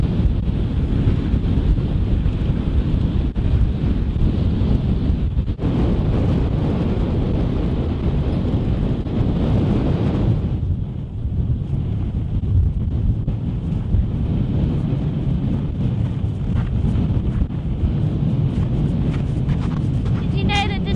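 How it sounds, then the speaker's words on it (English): Strong snowstorm wind roars continuously at an Antarctic ice base, a loud broadband buffeting that batters the microphone throughout, easing briefly midway before surging again. "windy and cold, and the snow is blowing horizontally. That's what it feels like. It's a proper storm out there at the moment."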